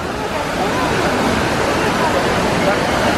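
Water from the Trevi Fountain in Rome splashes and rushes continuously, a loud, steady wash of sound with a faint murmur of people mixed in.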